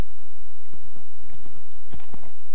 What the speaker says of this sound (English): Oh god, horse, please don't do that. I don't like that sound out of you.